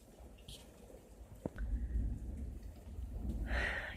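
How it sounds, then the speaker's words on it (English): Thunderstorm starting outside a house: faint steady rain hiss, one sharp crack, then a low rolling rumble of thunder that swells and lingers, heard alone at low level. "we're just starting to have a thunderstorm"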